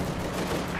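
Dense burst of gunfire from the Company of Heroes 2 strategy game, a loud continuous rattle like a machine gun or fusillade, alone for under a second.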